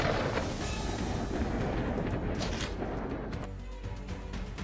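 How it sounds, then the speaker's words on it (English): A hunting rifle shot during a wild boar drive hunt in open country, heard as a loud, broad rumbling boom that rolls and echoes across the field for several seconds. "Another well-aimed shot echoed, sealing the fate."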